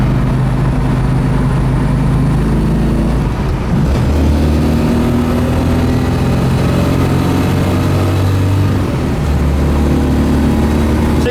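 A 1970 Ford Boss 302 Mustang cruises down the road with a steady, loud engine drone and wind rumble, its note shifting slightly as it drives.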